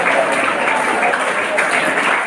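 Applause from an audience at a school function, dense and steady clapping at close range that holds at an even level for the whole stretch, with no individual voices standing out.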